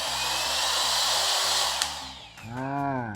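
An OSUKA power tool runs after its safety switch is pressed. Its motor gives a loud, steady whirring whine, briefly cuts out near the end, then spins back up with a rising tone.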